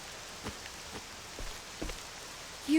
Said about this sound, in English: I'm surprised it took you guys this long to notice that the rain is purple.